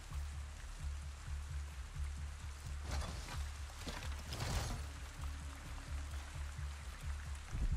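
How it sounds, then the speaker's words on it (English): Steady rainfall patters on surfaces in the Avatar Pandora game, a soft continuous wash with a few brief louder splashes midway, no voices. "Oh, it's raining."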